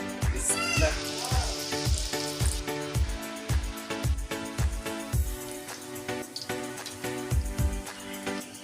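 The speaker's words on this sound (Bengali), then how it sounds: "আজকে পুয়া পিঠা ভাজতেছি" Pua pitha frying in hot oil, a continuous close sizzle under a steady rhythmic thumping pattern that repeats about twice a second throughout, with faint background voices.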